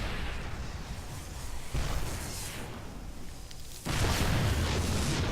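Heavy rumbling blasts from siege tank fire in a StarCraft match, loud layered booms with sudden onsets, one around the middle and a stronger one near the end, over constant battle noise.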